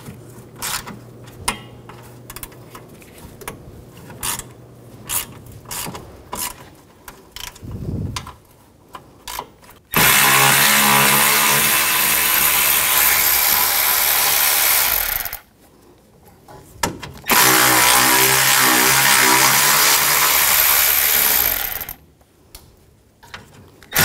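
Socket ratchet loosening 10mm bolts on a 2016-2022 Honda HR-V during A/C condenser removal, with quiet scattered clicks and taps followed by two long bursts of loud, close, steady mechanical whirring.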